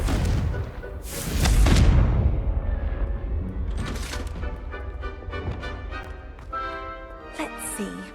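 A Confringo fire spell in Hogwarts Legacy bursts with a booming, whooshing blast near the start, followed by crackling debris, scattered softer hits and bright magical chimes, all fairly close and moderately loud.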